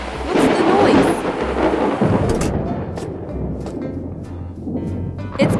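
Thunder during a storm near a riverside dock, a heavy rolling rumble that swells and fades under steady rain, loud and continuous with a few sharper cracks.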